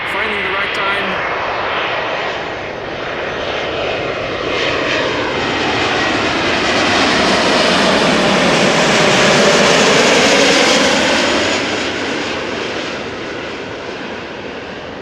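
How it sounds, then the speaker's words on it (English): A JetBlue jet airliner arriving from Boston passes close by on approach at Amsterdam Schiphol Airport, a loud, broad roar rising to a peak and easing off, with sweeping engine tones shifting as it goes over. "JetBlue arriving from Boston."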